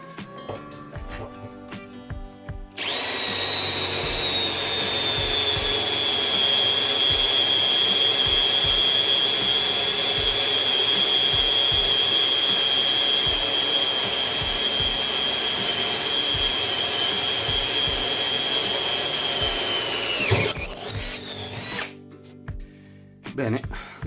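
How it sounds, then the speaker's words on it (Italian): A Milwaukee M12 Fuel drill bores an 8 mm steel bar with an 8 mm bit: the motor spins up abruptly into a loud, steady high whine that holds for about eighteen seconds, then winds down, followed by a few clatters. "vediamo ora come se la cava a forare con una punta da 8 mm una barra di acciaio"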